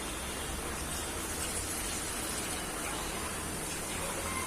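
Water is poured into a pot of prawn and fenugreek curry seasoned with salt and kokum, a steady close rushing hiss that runs unbroken with no talking.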